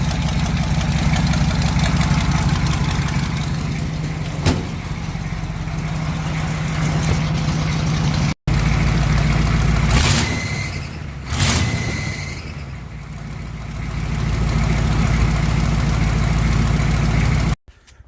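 A 1984 Chevy with a 6.2 diesel engine runs with vibration problems, producing a loud, rough, knocking idle close by, a brief cutout near the middle, then a couple of revving surges before settling back to a steady clatter.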